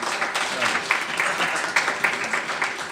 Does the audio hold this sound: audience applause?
yes